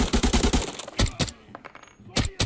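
Rapid automatic gunfire bursts in the shooter game Arena Breakout, a dense volley of loud close shots, a brief pause with faint ringing, then a few more shots, with no talk over it.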